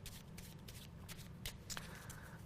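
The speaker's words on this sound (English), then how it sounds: "my assistant shuffles the cards as best he can" An assistant shuffles a deck of playing cards in a few quick riffling bursts, close and fairly quiet, over a low steady room hum.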